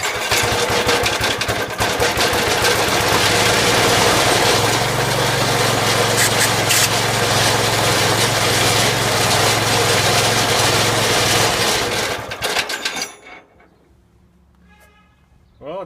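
Roto-Hoe chipper's small engine running loud and steady after a half-choke start, a harsh rattling drone close by that cuts out abruptly near the end, leaving quiet.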